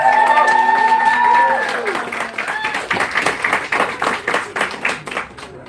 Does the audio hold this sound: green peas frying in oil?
no